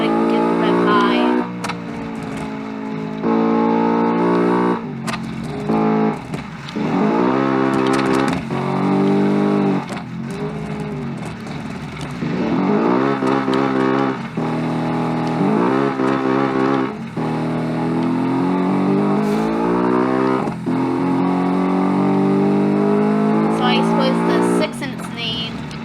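A turbocharged rally-style car engine in the Automation car game revs repeatedly, rising and falling in pitch through gear changes, loud and close, with someone talking over parts of it.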